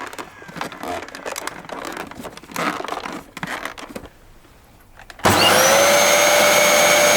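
After a few seconds of clattering and handling noise, a Dyson DC07 vacuum cleaner with its filter refitted suddenly starts, ending in a loud, steady, high-pitched suction roar close by.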